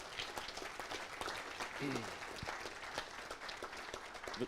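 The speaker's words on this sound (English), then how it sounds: "I just want to give a round of applause for the Echo folks." Crowd applause at a public safety aviation conference panel, a steady crackle of clapping hands mixed with someone speaking over it, moderately distant and even throughout.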